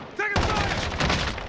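Incoming gunfire in Call of Duty Modern Warfare Plunder mode breaks out suddenly as a loud, dense volley after a brief game voice line and continues steadily to the end.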